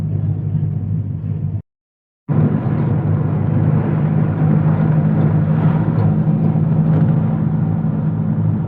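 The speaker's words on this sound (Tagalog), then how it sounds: "Jeep. Ayan, nag-jeep ulit kami." Riding in a jeepney on a commute: continuous engine drone and road rumble close around the listener, briefly cut by a short silence near the start, then steady to the end.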